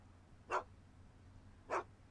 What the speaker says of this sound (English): Why couldn't Doc have invented a dog translator?